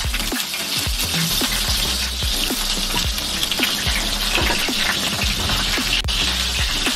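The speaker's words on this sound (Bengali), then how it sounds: "এবার আমি পটলগুলো ভেজে নেবো" Pieces of pointed gourd fry in hot oil, a close, continuous sizzle peppered with sharp crackles and pops plus occasional scraping stirs, with no talk.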